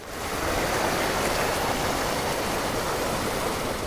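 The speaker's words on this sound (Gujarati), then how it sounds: "ખેતરમાંથી વરસાદી પાણીનો ધસમસતો પ્રવાહ વહેતો જોવા મળ્યો" Rainwater torrent gushing out of flooded farm fields in a Gujarat village during heavy monsoon rain, a dense, continuous loud roar of rushing water close by, with no voices.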